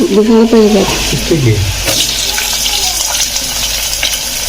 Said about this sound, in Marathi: कांदा भाजलेला आहे. आता आपण याच्यात टोमॅटो घालूया.